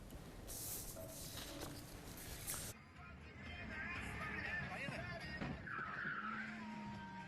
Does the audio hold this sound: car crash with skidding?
yes